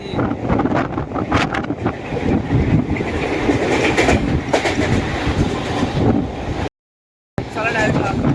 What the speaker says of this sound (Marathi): ट्रेन सुटलेली आहे